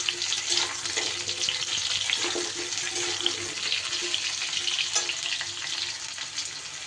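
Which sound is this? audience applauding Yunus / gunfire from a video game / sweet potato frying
sweet potato frying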